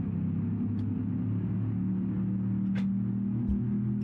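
A NASCAR mod stock car in BeamNG drives with its engine giving a steady, loud low V8-style drone, with a couple of brief high ticks and clicks over the constant rumble.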